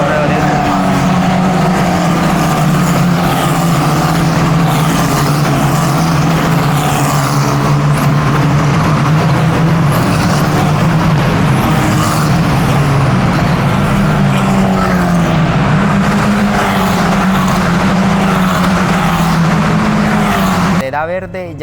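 Formula 4 race cars file past behind the safety car at a race in Lisbon, Portugal, a loud, close and continuous engine drone with shifting pitch, with a voice talking over it.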